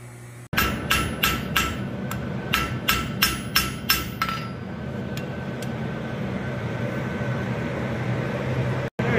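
A cross peen hammer forging the front flippers of a one-piece steel sea turtle on an anvil, about a dozen sharp ringing blows in a steady rhythm, then a quiet shop hum.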